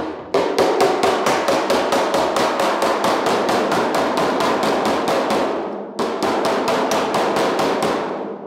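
Sharp, ringing hammer blows on a dolly while metal-finishing a hand-shaped steel roof skin for a 1940 Ford-inspired build, a steady fast run of loud, close taps, one brief pause, then the run resumes.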